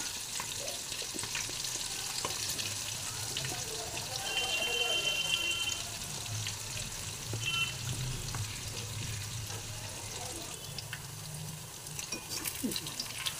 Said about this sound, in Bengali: আমি এবার কাঁঠালগুলো আস্তে আস্তে এভাবে ছেড়ে দেবো, ভেজে নেব ভালো করে।